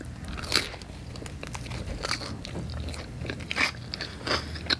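Close, crisp crunching bites and chewing of a pizza slice topped with crunchy Hot Cheetos, repeated irregularly across the clip with no talking.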